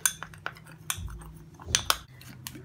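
Rose water, aloe vera gel and gram flour stirred together in a bowl, a spoon clinking and scraping in short irregular taps against the bowl, close and fairly quiet.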